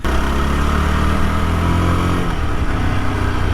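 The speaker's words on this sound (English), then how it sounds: "The exhaust is quite hearable for the rider, and it's also kind of sweet." A 2022 Yezdi Scrambler motorcycle engine runs steadily with a throaty exhaust rumble, close and loud throughout.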